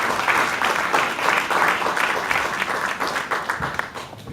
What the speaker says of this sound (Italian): ai quali dedicherei un applauso